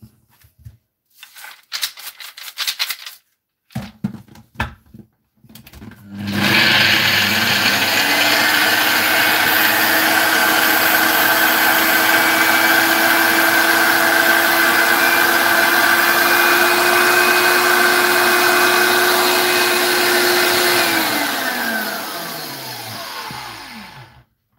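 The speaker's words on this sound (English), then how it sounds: "So I'm going to be blending everything together" An electric blender grinds a dry herbal seed powder mix, starting after some handling clatter and running as a loud steady whir for about fifteen seconds before spinning down.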